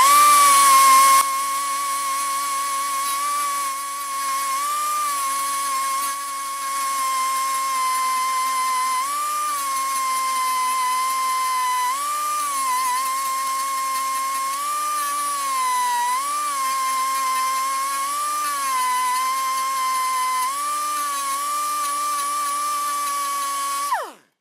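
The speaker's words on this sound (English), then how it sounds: "I really want to drill another one right here because that cracked like it went both up and down." A power drill bores a hole in a cracked part of an old bulldozer, giving a steady, loud, high whine that wavers slightly in pitch as it bites into the metal and stops abruptly at the end.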